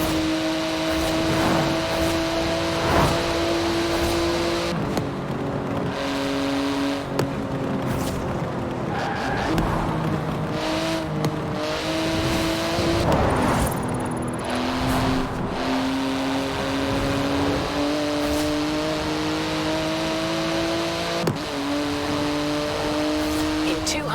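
A car in Forza Horizon 4, top speed limited to 211 mph, drives fast with a steady high engine tone that shifts as it runs through gears, continuous and prominent, while a voice talks over it at times.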